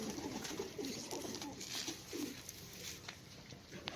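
Black-faced pigeons give soft, low coos at a distance on a rooftop loft, a few brief murmurs sinking into a quiet background hiss.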